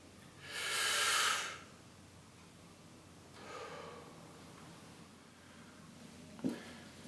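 Deep abdominal breathing during a breathing exercise: one strong, long airy breath is followed by a softer one a couple of seconds later, then a brief sharp nasal snort near the end, heard alone in a quiet room.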